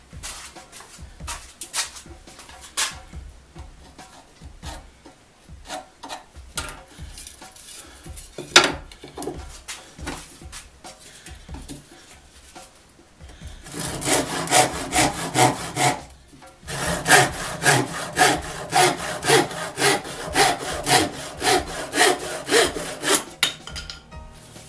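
Hand saw cutting through scrap plywood, starting with scattered scrapes and taps, then settling into steady, loud rhythmic back-and-forth strokes close by.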